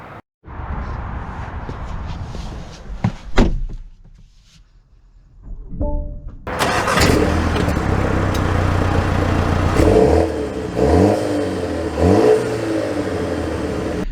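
A 2024 BMW X1 pulls away after a door shuts and a short chime sounds, its engine accelerating through several revving pulls with audible gear changes, loud and close from inside the cabin.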